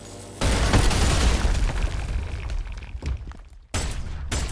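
Railgun fire in the fast shooter ULTRAKILL, a loud booming burst after a brief lead-in, decaying into crackling debris, then a sudden dropout and a second sharp impact near the end, with no talking.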